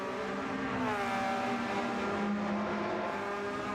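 A GT race car in Gran Turismo 7 accelerates down the back straight at Yas Marina during a six-hour endurance race, its engine a sustained, rising harmonic whine, steady and close with no talk over it.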